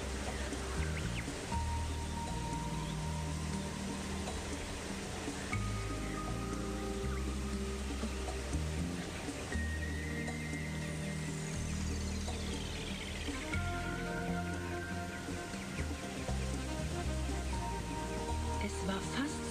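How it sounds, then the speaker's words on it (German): A warm rain shower falls steadily outdoors, a constant patter of drops spread over the whole span, with faint bird calls and tonal sounds mixed in the background and no voices. "Eines Tages wurden wir von einem warmen Regenschauer überrascht."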